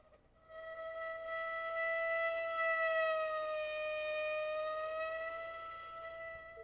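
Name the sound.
bowed string instrument played with vibrato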